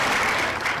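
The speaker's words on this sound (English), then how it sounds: "People cheering" A crowd applauds and cheers in a dense, continuous burst of clapping, loud and close, lasting under a second.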